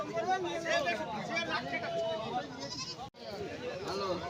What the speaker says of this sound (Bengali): বন্ধুরা দেখুন এখানে ক্রস জাতের ছাগল রয়েছে